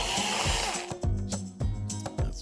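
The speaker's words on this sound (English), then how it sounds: "You're just going to remove these screws here." A power driver backs screws out of a golf cart steering wheel in several short whirring bursts with brief pauses between, loud and close.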